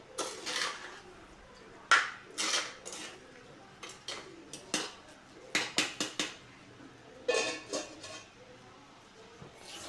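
Metal pot of kanava (squid) curry being handled and covered with a lid, a series of sharp clanks and clinks of metal on metal in irregular bursts, fairly close and alone.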